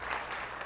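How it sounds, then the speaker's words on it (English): Audience applause at a tech conference talk on Apple Business Manager, a short steady burst of clapping from a room of listeners with no voices over it. "Thank you for the round of applause"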